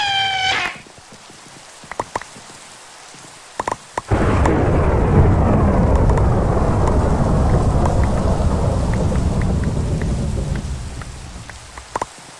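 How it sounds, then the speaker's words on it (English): Minecraft thunderstorm: a loud thunderclap rolls in after a few faint clicks, followed by steady heavy rain that continues for several seconds before easing slightly, with no talking. "Rain makes me feel like it's raining outside."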